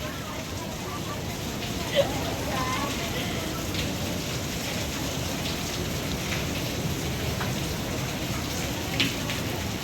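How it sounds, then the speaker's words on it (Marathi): A steady, dense downpour hisses evenly throughout, loud and close, with a couple of faint knocks breaking through the constant roar of rain. "एवढा पाऊस"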